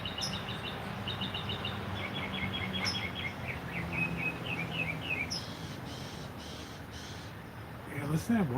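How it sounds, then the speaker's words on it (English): A songbird sings outdoors in repeated quick, bright phrases and trills, fairly close and clear over a steady noisy background. A brief low voice and a few harsher calls join near the end. "listen to that one bird really going to town, huh?"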